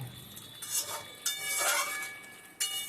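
Pieces of katla fish dropped into hot oil in a pan, with bursts of loud sizzling that swell and fade over a few seconds alongside light clinks of utensils, close and with no voices.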